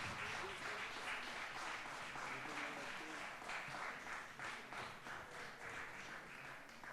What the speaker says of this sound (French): je vais demander à la salle vraiment d'applaudir très très fort tous les participants à cette table ronde